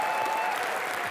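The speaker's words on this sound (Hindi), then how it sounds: "जिसके लिए जोरदार तालियां सर।" Studio audience applause on a comedy talk show honoring a cricket batting record, a dense, steady wash of clapping that stays fairly quiet and distant throughout.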